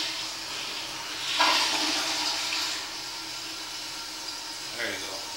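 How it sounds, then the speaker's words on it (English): Water gushes through a drain pipe fed from a kitchen sink near a floor drain, a soft rushing wash that swells, fades, then surges briefly again near the end. "Be able to see some water running through."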